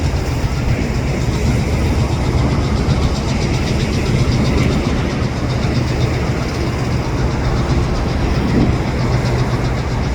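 Switcher locomotive idling in the Trapp rail yard, a steady low diesel rumble with continuous engine drone close by, no clear horn or clank standing out.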